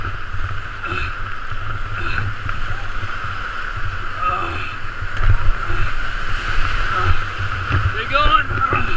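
A kayak paddles on a river with water splashing and sloshing close by, steady rushing current underneath, while voices call out intermittently over it.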